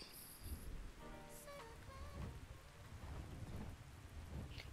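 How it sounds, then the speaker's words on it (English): Heavy rain pours steadily through a thunderstorm in ARK: Survival Ascended, with low rumbling thunder rolling underneath and a few brief higher tones sounding briefly early on. "It is quite the storm out right now"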